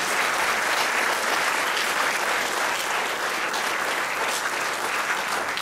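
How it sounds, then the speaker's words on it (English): A large audience at a hospital radio awards ceremony breaks into dense, sustained applause, a loud, even wash of clapping with no voices standing out. "give yourselves a round of applause for the work that you do"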